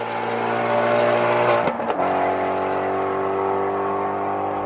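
A Shelby GT350's flat-plane-crank V8 wails near redline above 8,000 RPM, a loud sustained high-pitched engine note with a brief dip and shift before resuming a steady scream.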